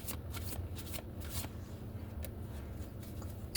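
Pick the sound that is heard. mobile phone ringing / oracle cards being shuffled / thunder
oracle cards being shuffled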